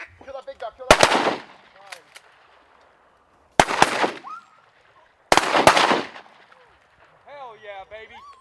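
Three loud shotgun blasts fired at ducks during a Kansas duck hunt, each a sharp burst with a ringing tail, spaced a couple of seconds apart, with duck calls and quacking between them.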